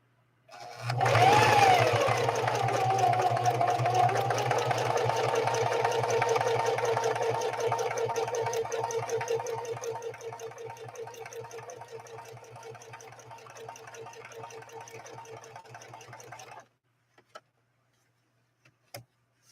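A Singer 4411 heavy duty sewing machine stitches in one continuous whirring run, loud and close, slowly easing off before stopping, followed by a few faint clicks.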